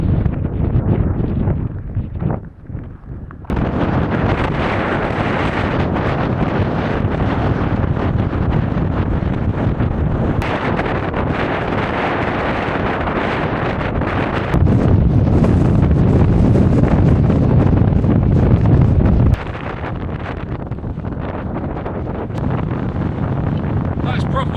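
Strong gale wind on the summit of Dent buffets the microphone in loud, continuous roaring gusts, with a brief lull near the start and a harsher surge later on.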